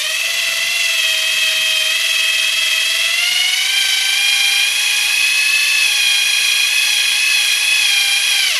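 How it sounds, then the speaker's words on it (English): A power drill running in reverse to wind wire whines steadily and continuously up close, its pitch rising slightly partway through as it keeps spinning. "you put your drill in reverse and you begin your winding"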